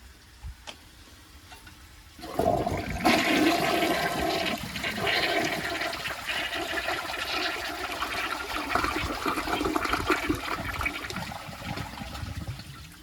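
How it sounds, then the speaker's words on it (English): A 1991 Peerless toilet flushes sand through its trapway: a loud, sustained rush of water that bursts in after about two seconds of quiet and churns steadily to the end, with no voices. "for the last flush we will see if it can clear out the rest of that sand at the bottom of the trapway"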